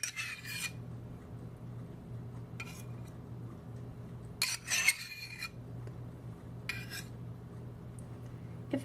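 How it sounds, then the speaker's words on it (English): A few short, distinct scraping bursts of a measuring spoon being wiped clean of Miracle Whip against a bowl, separated by quiet stretches over a low steady hum, close and with no talking. "I'm just going to scrape this all off of the measuring spoon. And then we will mix it in."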